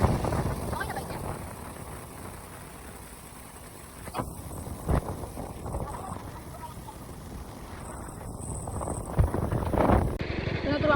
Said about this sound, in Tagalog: Hindi na kaya ang hangin.